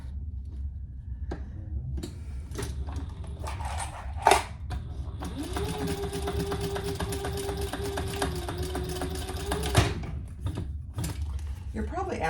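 A sewing machine stitches a bag strap near a swivel clasp in one steady run of several seconds, with clicks and handling knocks before and after.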